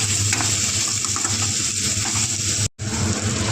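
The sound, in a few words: frying spice paste with garam masala in a pan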